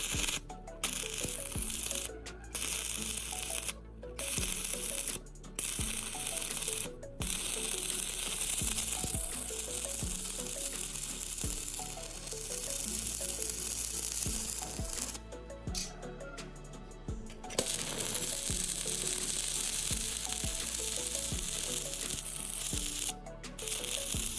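Welding steel parts cut from old car leaf springs: a dense crackling, sizzling arc that runs in bursts, stopping briefly between beads, close and fairly loud with no talk over it.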